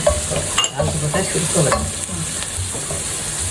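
Vegetables with salt sauté in a pan on a low flame for a traditional one-pot vegetable pulao, with a steady close sizzle broken by stirring scrapes.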